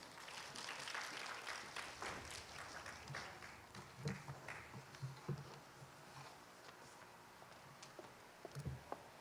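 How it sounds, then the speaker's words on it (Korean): Scattered applause from a modest audience at a talk concert welcoming a research fellow to the stage, faint, uneven clapping that thins out toward the end. "박수로 모시겠습니다."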